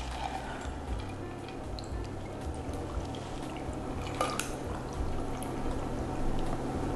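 A cocktail, a Bloody Mary, strained from a shaker into a glass over ice, giving a steady close pour with light drips and faint clinks, no voices.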